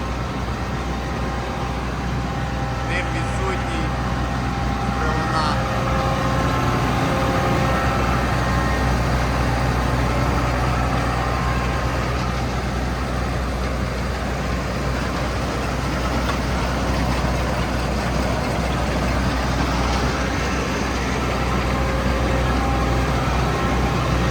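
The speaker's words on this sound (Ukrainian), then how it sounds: "Тихенько дуже працює комбайн." A John Deere 2066 combine harvester engine idles with a steady, even low rumble and broadband hum that holds unchanged and fairly quiet throughout, with no voices.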